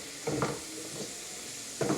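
Breakfast food fries in olive oil in a pan with a steady sizzling hiss. Short scraping bursts of stirring rise above it, close up, with no talking.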